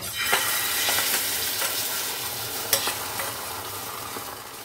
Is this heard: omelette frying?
yes